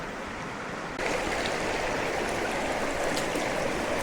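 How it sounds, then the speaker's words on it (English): Steady rushing of a shallow creek flowing over rocks on a Sedona trail crossing, close and continuous, growing slightly louder after the first second. "So you do a little creek crossing here. Looks pretty shallow."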